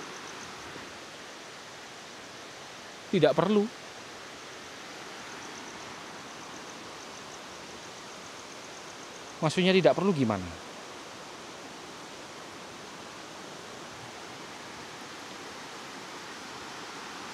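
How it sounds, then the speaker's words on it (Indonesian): A large river rushes in a steady, unbroken wash near a bamboo forest, a constant broadband roar filling the whole stretch while a voice speaks briefly twice over it. "Oh, itu sungai besar, teman-teman. Besar banget sungainya itu."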